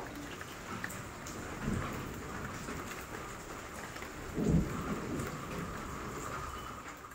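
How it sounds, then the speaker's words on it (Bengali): Heavy rain pours steadily on an April morning, a dense continuous hiss, with low rumbles of thunder swelling around the second and fourth-to-fifth seconds. "সকালে ঘুম থেকে উঠেই দেখছি একদম ঝমঝমিয়ে চারিদিক কালো করে বৃষ্টি হচ্ছে।"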